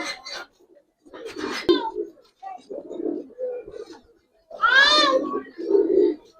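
Pigeons cooing in a loft among Giribaz and coloured fancy pigeons, low throaty rolling coos in short bursts near the recorder, with a voice and other bird calls mixed in.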